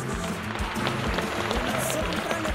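Audience applause at a quinceañera party in Tula, a dense steady patter of many hands clapping through the whole stretch, fairly loud, with crowd murmur and a brief higher burst near the middle.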